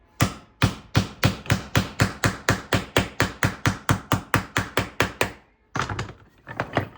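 A planishing hammer striking a sheet metal wheel well patch, about two dozen rapid, evenly spaced metallic blows, close and loud, then a short pause and a few more quicker taps, no talk.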